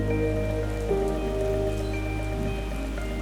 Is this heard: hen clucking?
no